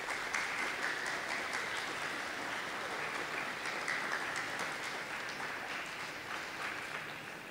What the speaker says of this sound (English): Let's give a huge round of applause to acknowledge everyone that makes this possible.